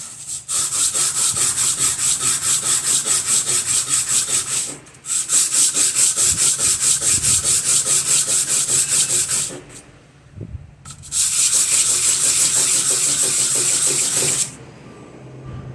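Steady back-and-forth sandpaper rubbing on a Mercedes unit injector part, loud and close, in long continuous strokes with two brief pauses near five and ten seconds.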